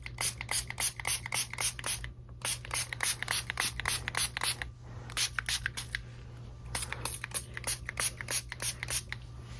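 White spray being sprayed onto a model tree for a model farm yard, heard as a long run of short, close hissing bursts in quick rhythmic pulses, with brief pauses between groups.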